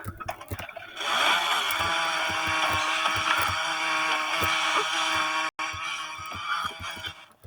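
A chainsaw in the zombie video game Into the Dead 2 buzzes steadily at a high, raspy pitch for several seconds, with short choppy bursts before and after and a brief cutout partway through.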